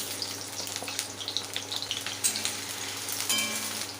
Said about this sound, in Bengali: এরপর আমি আলুগুলো ভেজে নিচ্ছি।